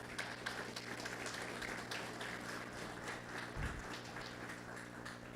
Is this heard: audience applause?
yes